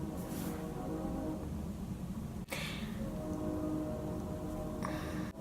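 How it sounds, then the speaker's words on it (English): A train rumbles steadily past in a small town, a continuous low drone with faint horn-like tones, heard at a distance under indoor room noise. "Sorry if you hear a train in the background."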